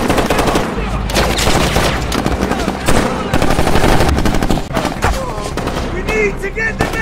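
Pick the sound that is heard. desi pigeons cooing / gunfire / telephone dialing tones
gunfire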